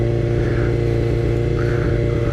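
A motorcycle's exhaust idles nearby with a loud, steady, throbbing low rumble, running evenly without revving.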